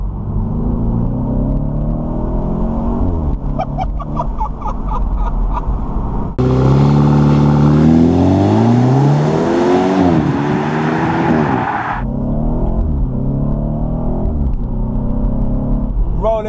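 A turbocharged 2015 BMW Z4 sDrive20i M Sport with an 8-speed ZF gearbox accelerating hard, its engine note rising steadily through the gears as a loud, sustained roar heard from inside the car.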